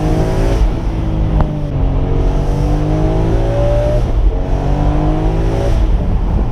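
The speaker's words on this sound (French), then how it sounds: "ça sonne, c'est un bruit très métallique ce 6 cylindres" A BMW M3 E46 convertible's inline six-cylinder engine revs and accelerates, a loud, metallic-sounding rising drone with clear climbing pitch sweeps as the car pulls through gears, heard close from inside the car without talk.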